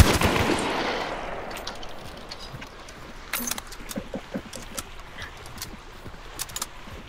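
Gunfire in the video game Hunt: Showdown: a loud blast fades into scattered sharp distant shots and metallic clicks, irregular and sparse, with quiet ambience between.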